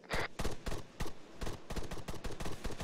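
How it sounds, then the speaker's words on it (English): Rapid bursts of gunfire from the video game Squad, a steady string of loud sharp shots and short volleys repeating through the whole stretch with no gaps. "Bravo taking fire from the south."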